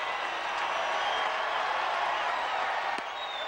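Baseball stadium crowd at a Tigers game on a 1-2 count, a steady roar of cheering and applause that swells as fans rise to their feet, filling the scene from start to finish.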